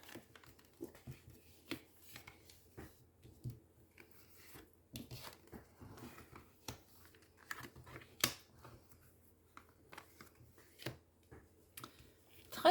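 Tarot or oracle cards are laid out one by one for a six-card reading, giving soft, close taps, slides and light paper flicks spread over a quiet background, with no talk.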